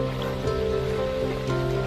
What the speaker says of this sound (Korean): 개울물 소리도 좋고요.